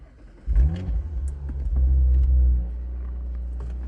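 An Audi RS5 B9 from 2017 starts up with a loud burst, then its engine revs, climbing and holding a strong rumbling roar before settling back to a steady idle.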